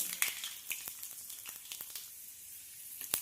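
Mustard seeds and chana dal fry in hot oil with a soft steady sizzle and scattered sharp pops and crackles, close and fairly quiet.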